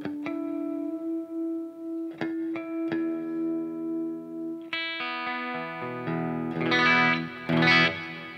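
An electric guitar plays a slow riff, its notes ringing long in a heavy reverb wash that swells into a dense, distorted chord toward the end.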